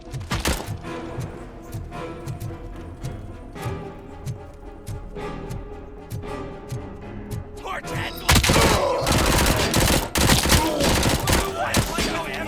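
Rapid gunfire in RoboCop: Rogue City, dense bursts of sharp shots over game music and effects, swelling into a loud, continuous barrage in the final seconds.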